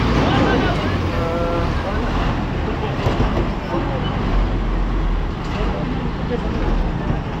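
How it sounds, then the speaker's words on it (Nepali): Heavy road traffic of large buses squeezing past close by on a road in Nepal, a low continuous roar with wind buffeting the microphone and voices underneath. "बल्ल बल्ल छिरिरहेको छ है यो बसहरू, ठुल्ठुलो बसहरू।"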